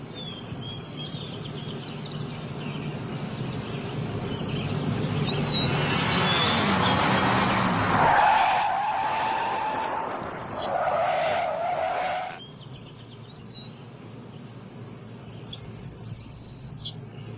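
A car skids with squealing tires on Cross Campus Drive, a rising roar and screech peaking midway, set against a constant background hum of crickets and insects.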